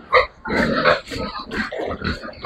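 Pigs grunting and snorting close by in quick, overlapping bursts at feeding time on a farm, a noisy chorus of several animals with no talking.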